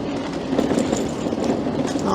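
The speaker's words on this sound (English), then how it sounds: "So we'll dive across while that tram's going." A tram rolls past on a busy town street near the North Station stop, a steady low rumble and rattle of wheels on rails close by, with faint voices and street bustle around it.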